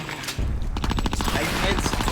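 Rapid blasts and gunfire from grenades thrown in the video game Conker: Live & Reloaded, a loud, dense burst of explosive cracks following a quieter opening.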